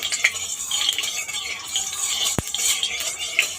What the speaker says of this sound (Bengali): এবার আমি সর্ষের তেলে মাছগুলো ভাজবো